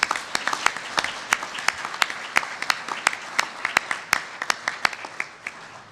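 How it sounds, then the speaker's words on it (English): Audience applause at a Boeing event celebrating the team that finished the last C-17, with dense clapping and sharp individual claps standing out, steady throughout and tapering slightly at the end. "So let's give ourselves all a round of applause."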